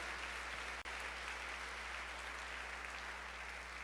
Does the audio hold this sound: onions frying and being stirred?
no